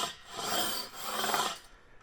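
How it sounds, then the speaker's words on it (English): A fret leveling beam is rubbed back and forth under guitar strings against the frets, giving a close, dry rasping scrape in two long strokes that drop off at the end. "you would just use it like you would a normal leveling beam,"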